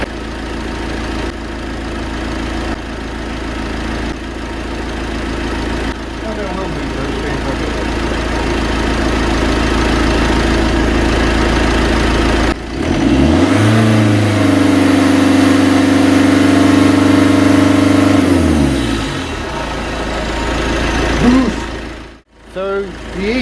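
A poorly running Citroen Berlingo engine idles with a steady, rough low drone, then is revved and held high for several seconds before dropping back to idle, close and loud with no talking.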